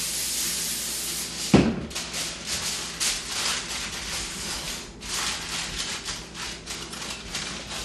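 Cooking spray hisses steadily onto a pan to grease it, a close, continuous airy spray with brief pulses that runs through the whole stretch.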